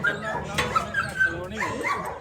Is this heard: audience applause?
no